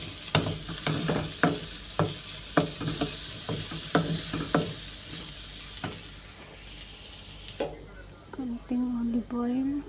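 Paprika gets mixed into chicken shawarma meat, heard as a quick series of wet slaps and squelches, with a person talking over the last couple of seconds.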